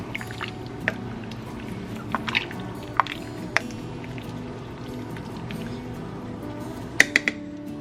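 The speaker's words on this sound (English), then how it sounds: "Stir it in." A spoon stirs maple syrup into butternut squash soup in a crockpot, giving soft wet sloshing and squishing with a few light clinks against the pot, close and fairly quiet.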